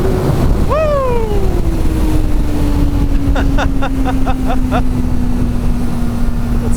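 A 2024 Kawasaki Ninja ZX-4RR rips past with a rising engine note that drops as it pulls away, then several quick-shifted gear changes crackle faintly in the distance under wind noise.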